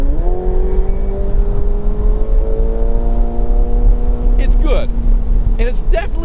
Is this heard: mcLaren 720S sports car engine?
yes